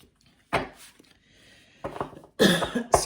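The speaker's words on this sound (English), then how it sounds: "coughing all over the place" A person coughs several times in short, close bursts, with a quiet pause between the first cough and the later cluster.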